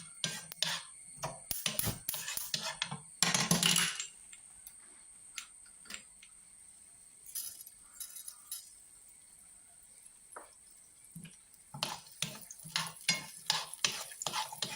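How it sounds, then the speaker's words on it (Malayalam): Mustard seeds spluttering in hot oil alongside small onions in a pan, giving sharp irregular pops and crackles in scattered bursts with quieter gaps between them, heard close up. "കടുവും കൂടെ അതിൽ കിടന്ന് നന്നായിട്ട് പൊട്ടട്ടെ"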